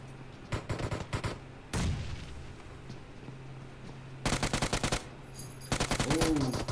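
Automatic gunfire in PUBG Mobile comes in rapid bursts of sharp repeated shots, several separate volleys a few seconds apart, loud and close with a brief faint tone under them.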